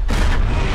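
A tank cannon fires in a war movie scene, a deep, loud boom that fills the whole burst with rumbling low-end weight and blast noise.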